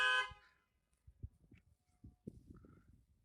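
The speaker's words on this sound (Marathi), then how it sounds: "हॉर्न मारू नको." A car horn gives one loud, short honk at the very start, then fades into low, uneven knocks and rumbles inside the car on a long drive.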